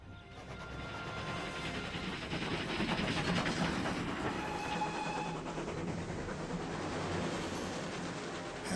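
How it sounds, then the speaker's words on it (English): A train rolls along its tracks with a continuous rumbling roar, wheel clatter and faint metallic squeals, loud and close throughout, with no voices. "Have the conductor stop the train just ahead."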